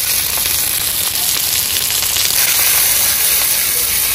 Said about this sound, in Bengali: পেঁয়াজ ভাজা চলছে।